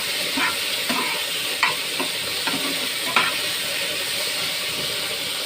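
Ginger paste and tomato fry in a pan for a cauliflower, potato and fish curry, giving a loud, steady sizzle with occasional soft clicks and scrapes of stirring.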